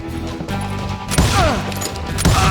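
Gunfire in the Western shooter Call of Juarez Gunslinger, loud and close, with repeated shotgun-like blasts and crashing impacts layered over game music, no talking.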